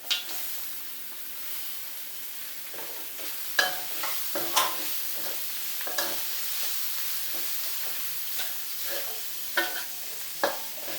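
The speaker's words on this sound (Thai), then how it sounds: "หน่อไม้ครับที่เราต้มไว้นำลงผัดตามกันเลย" Boiled bamboo shoots are stir-fried with pork belly in a pan, giving a soft sizzle under a run of spatula scrapes and clanks at irregular intervals, close but fairly quiet.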